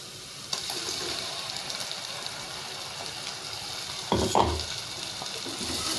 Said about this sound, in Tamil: வெங்காயம் தக்காளி நல்லா வதங்கி எண்ணெய் பிரிஞ்சு வரட்டும்.